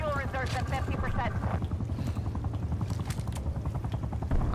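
An attack helicopter in Call of Duty: Black Ops Cold War gives a loud, steady rotor chop throughout, with a voice speaking over it at the start.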